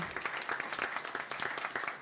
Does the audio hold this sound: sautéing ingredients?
no